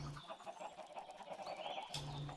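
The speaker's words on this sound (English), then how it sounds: "So all these chickens have been laying eggs over here and just completely taking over this area." Chickens in the video game Minecraft, clustered together after laying eggs: several short clucks and soft bawks overlapping, near and moderately quiet, with no talk over them.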